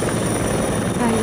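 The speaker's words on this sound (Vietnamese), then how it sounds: "Firefighter helicopter." Steady, loud firefighting helicopter rotor and engine drone, close and continuous, with a faint voice mixed into the noise.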